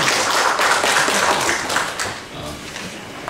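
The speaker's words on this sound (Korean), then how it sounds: "박수 한번." An audience at a symposium of the Jeonnam writers' association applauds, giving a brief, dense burst of clapping that stays close and loud before gradually thinning out.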